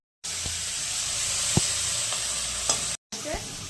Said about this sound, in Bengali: ফুলকপিটা একটু ভেজে নেবো, লবণ দিয়ে ভাজবো